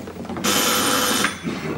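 A single electric telephone bell rings in one sustained, bright burst of under a second, then cuts off against a quiet room.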